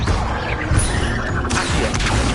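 Spell effects cast in Hogwarts Legacy, a dense stretch of crashing, whooshing magical impacts that blend together at high loudness, with a sharper burst partway through.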